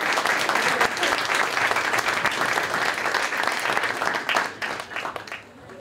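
Audience applause greets a guest, a journalist from the economic weekly Trend, loud and continuous clapping that thins and tapers off over the final second.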